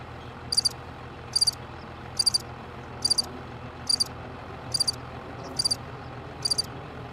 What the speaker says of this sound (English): There you can hear the crickets, right?